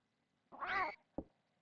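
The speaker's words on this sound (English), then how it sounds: "Oh, it's the fat cat again." Meow of a fat cat in the Super Famicom horror game Clock Tower: The First Fear, a single clear in-game cry followed by a short dull thump, with quiet game background around it.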